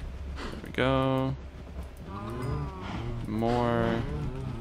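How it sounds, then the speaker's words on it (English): Cows in the Minecraft video game give loud, drawn-out moos, two clear calls with a softer one between them, close and distinct over faint background sound. "More cows. Can never have too many cows."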